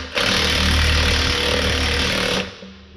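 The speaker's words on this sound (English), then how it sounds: "Tighten it up. Kind of a tough spot to get into, so I'm using a wobble socket." A ratchet with a wobble socket tightens a fastener on a 620 hp John Deere tractor's 60 ft NH3 tool bar, heard as a loud, steady mechanical rattle close by that runs for over two seconds and then drops away.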